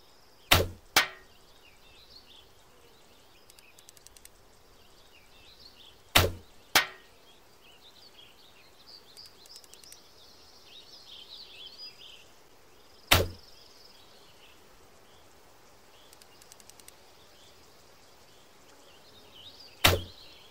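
Arrows loosed and striking on an archery range in a Cub Scouting video game, heard as five sharp, loud impacts spread unevenly over a faint, steady game ambience with no speech.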